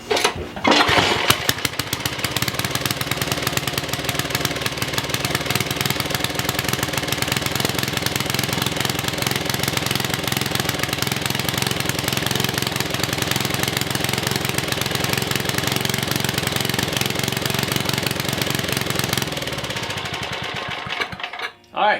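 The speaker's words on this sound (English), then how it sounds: "We'll lift up that kill switch so that it doesn't do anything, and hopefully it starts up fine." An old Ariens rear tine tiller engine starts and runs at a steady, loud, rough idle for about twenty seconds, then cuts out when the kill switch is pushed, with no talk over it.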